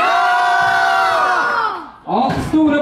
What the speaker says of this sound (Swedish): Vi ger alla tävlande en stor applåd.